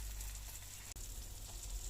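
Gima saag frying over low heat in a little oil, giving a faint, steady sizzle with one brief click midway.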